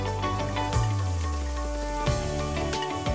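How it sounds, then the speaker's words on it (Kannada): Mustard seeds and curry leaves fry in hot oil as a tempering for chutney, producing a continuous close sizzle overlaid with a steady tonal hum and no talking. "ಕರಿಬೇವಿನ ಸೊಪ್ಪು ಸ್ವಲ್ಪ ಹಾಕ್ಕೊಳ್ತೀನಿ. ಇದನ್ನು ಹಾಕ್ಕೊಂಡು ಫ್ರೈ ಮಾಡ್ಕೊಂಡಿದ್ದಾದಮೇಲೆ"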